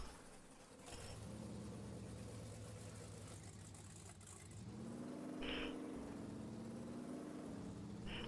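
Off-road truck engine in MudRunner, a steady mid-pitched drone that idles low at first, then revs up and rises in pitch as the vehicle sets off, loud and continuous with no talk.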